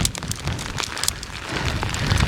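Heavy rain pounds down at a hillside camp, a dense, constant patter of drops striking tent fabric and ground, close and loud with no voices.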